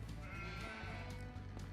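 Goats bleating in the farm video game Farming Simulator 25: soft, wavering cries over a steady low hum of game ambience, faint and continuous.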